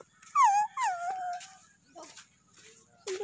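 A dog whimpers on a beach, giving a few high, wavering whines spaced by pauses, close and fairly loud, with faint background noise.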